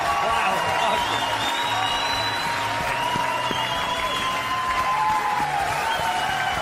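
A theater audience giving a standing ovation, dense steady clapping filling the whole stretch with crowd noise, while a voice talks over it.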